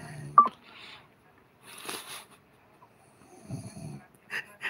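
A person snoring nearby, a few irregular rasping snores separated by quiet pauses, fairly faint overall.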